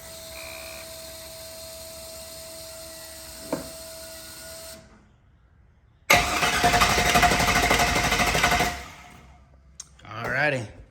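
Chevrolet Silverado engine cranking on the starter after a rocker arm repair, a loud whirring burst of about three seconds following a quiet workshop lull, with a voice briefly heard nearby.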